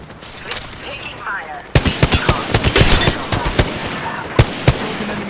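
Gunfire in the battle royale game Apex Legends: after a quieter opening, sharp loud bursts of shots crack in rapid succession, then a few separate single shots ring out near the end, with a voice briefly talking.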